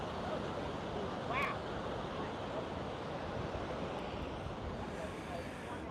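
Ocean waves on a shore during a beach yoga session, a constant broad surf roar with wind, steady throughout with a brief sharper chirp near the start and no clear talk.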